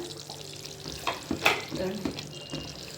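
Beaten eggs poured into a pan of fried masala for an egg masala curry, giving a soft sizzle with a few clinks and stirring scrapes, close and moderately loud.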